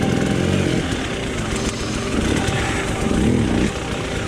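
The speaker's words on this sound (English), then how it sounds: "I'm rocking the bike to try and get that tiny bit of extra momentum, then do the controlled drop of the clutch." An enduro motorcycle engine is revved hard and held near at hand in a rocky creek bed as the rider rocks the bike and drops the clutch, a loud, rough, continuous snarl rising and dipping.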